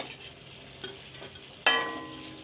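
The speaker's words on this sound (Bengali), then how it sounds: "চিংড়িগুলো ভাজা হয়ে গিয়েছে, চিংড়িগুলো এবার নামিয়ে নেব।" Shrimp frying in oil in a wok give a faint, soft sizzle, punctuated by a few light stirring touches and one sharp metallic clink of a utensil against the pan.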